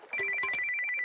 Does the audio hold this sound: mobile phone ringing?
yes